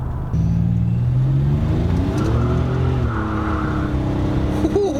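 A 1987 Buick Grand National accelerates hard from close by, its turbocharged engine rising through a pitch sweep, with a brief shift and continued revving before a short shout near the end.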